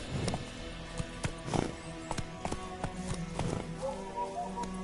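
Roach, the horse in The Witcher 3, clip-clops along at a walk, its hoof strikes rhythmic and close over steady game ambience, with a brief whinny.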